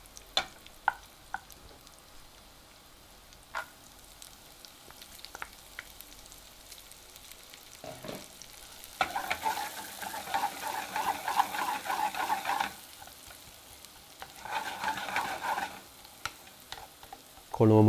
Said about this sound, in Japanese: このままエシャロットに火を入れていきます。